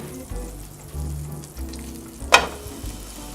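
A cream cheese and jalapeño sandwich fries in a pan with a steady close sizzle, shifting as it is stirred or moved, with a brief sharp clatter partway through and no talking.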